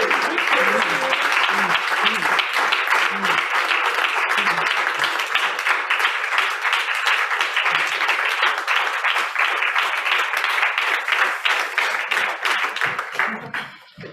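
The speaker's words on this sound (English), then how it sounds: "And where's the applause?" Audience at a WFP innovation pitch event applauds loudly and continuously for the whole stretch, a dense wash of clapping with a few cheers, fading out at the very end.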